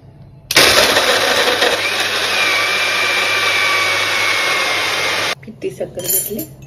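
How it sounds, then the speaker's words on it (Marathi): A kitchen mixer blends muskmelon juice with ice and cold milk, starting abruptly into a loud, steady whirring roar for about five seconds before cutting off, followed by faint clinks. "आता मिक्सरला फिरवून घेऊ."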